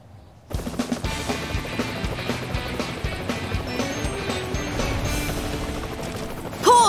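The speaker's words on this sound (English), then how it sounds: "Use Skye's helicopter to get Marshall up to him." A cartoon helicopter in a PAW Patrol video game whirs with a steady, busy rotor drone under layered game music and effects, swelling louder at the very end.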